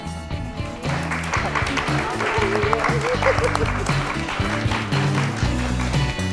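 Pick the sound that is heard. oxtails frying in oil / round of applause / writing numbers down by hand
round of applause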